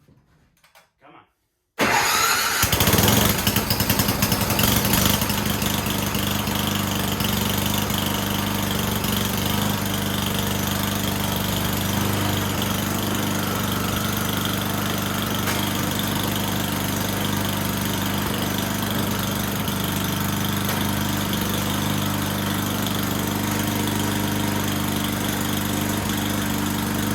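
An Ariens 8524 snowblower engine catches after a short quiet start and then runs steadily and loudly, a constant close mechanical drone that holds without a break through the rest of the clip.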